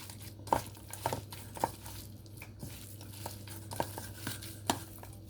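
Cumin, coriander, garam masala and kasuri methi being mixed by hand into food in a home kitchen, with soft rhythmic squishing and crinkling strokes repeating about every half second, close and quiet.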